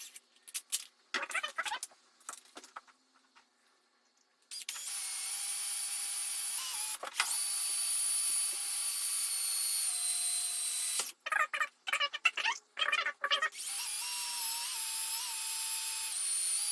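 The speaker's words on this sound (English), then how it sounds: "I'm going to pre-drill with 3 point something" A power drill whines at high pitch as it pre-drills into scrap material for an enclosure, in a few sustained runs broken by short pauses and bursts, close by.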